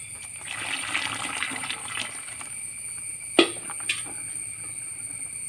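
Water trickling and splashing, a soft continuous liquid hiss with a couple of brief sharper drips or clinks partway through, fairly close, with no talk.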